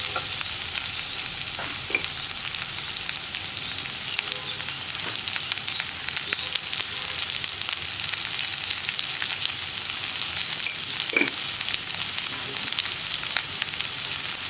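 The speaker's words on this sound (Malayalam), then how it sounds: "ഇനി നമുക്ക് ഈ സവോളയ്ക്ക് ആവശ്യമായിട്ടുള്ള ഉപ്പ് ചേർത്ത് കൊടുക്കാം." Sliced onions frying in oil with salt and curry leaves while being stirred, a loud, dense, continuous sizzle with occasional scraping spoon strokes, close up and steady throughout with no voices.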